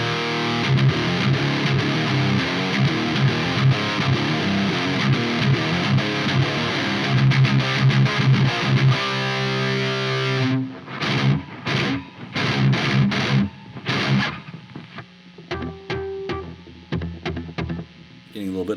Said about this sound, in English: We're going to hit the front end of the distortion a little bit harder.